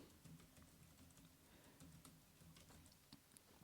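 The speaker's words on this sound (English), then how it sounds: "I'm kind of typing pretty hard, but this Logitech keyboard" Hard typing on a Logitech computer keyboard, a steady patter of fairly quiet key clicks close by, ending in one sharper clack.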